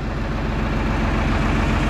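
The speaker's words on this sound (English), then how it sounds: "So our tractor's all warmed up." Tractor engine idling steadily after warming up, a loud, close, continuous low rumble with an even throb that stays level throughout.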